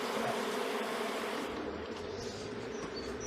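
Honeybees buzz around a hive as it is being closed up, a faint, continuous insect hum with a slight drop in texture partway through and no voices present.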